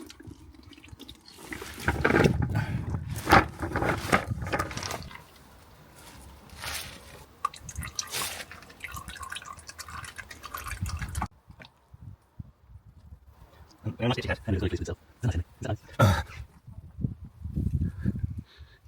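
Coolant drains out of a Ford Transit Connect engine during removal, splashing and dripping in uneven bursts that stop briefly partway through and then return, close by, with no talk.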